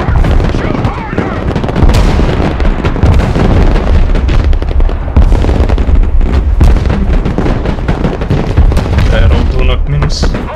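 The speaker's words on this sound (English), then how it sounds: "Artillery reporting in. Direct fire on my mark." Loud, continuous battlefield din from the Broken Arrow video game: booming artillery fire and explosions mixed with crackling gunfire, densely layered and close, with voices of radio chatter from game units partly heard beneath.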